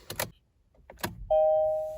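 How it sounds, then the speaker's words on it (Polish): A few light metallic clicks and rattles of a key going into the ignition of a 2020 Kia ProCeed GT-Line, followed by a sustained electronic chime tone. "Mam kluczyk i wkładam go do stacyjki."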